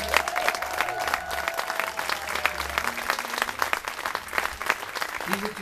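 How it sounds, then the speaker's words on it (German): An audience gives continuous applause, a dense and steady clatter of clapping from a crowd at a community stage performance. Faint voices and a low hum sit underneath it. "Das, so finde ich, ist doch noch einmal einen besonderen Applaus wert."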